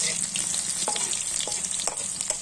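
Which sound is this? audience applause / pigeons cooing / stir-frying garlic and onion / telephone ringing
stir-frying garlic and onion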